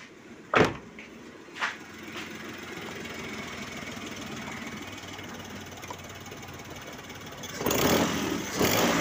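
A car engine with a leaking silencer and a cracked exhaust manifold idles at a low, steady rumble, with two sharp knocks early on and a louder surge in the final seconds.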